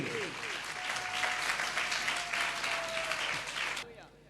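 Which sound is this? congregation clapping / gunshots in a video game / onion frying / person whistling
congregation clapping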